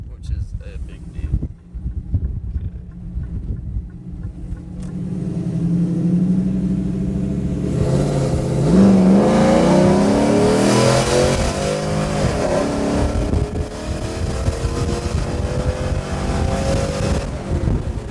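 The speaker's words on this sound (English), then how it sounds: "about to turn around and do a pull just so you can see it real quick" A cammed, re-tuned Chevrolet Silverado pickup accelerates hard, its engine climbing in a loud rising roar through shifts, with heavy wind noise from inside the cab. Someone talks over the engine at the start.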